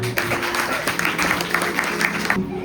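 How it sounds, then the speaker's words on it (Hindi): Audience at a play's final scene during a Kartik month celebration gives a steady burst of applause, dense clapping that holds for over two seconds and ends abruptly. "आप सभी लोग जोर से एक बार तालियां बजा के सबका स्वागत कीजिए"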